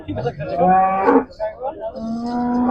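An HF breed cow moos loudly and close by at a livestock market in Khanna, in a few drawn-out, low calls separated by short pauses.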